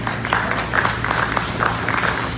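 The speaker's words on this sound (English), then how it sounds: "That deserves a round of applause" Audience applause at an aviation history panel discussion, a steady wash of many hands clapping with a few louder bursts, filling the room for a couple of seconds.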